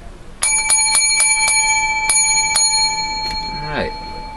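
A bell struck about seven times in an uneven series of bright, ringing hits, close and clear with tones lingering between strikes, followed by a short falling chirp at the end.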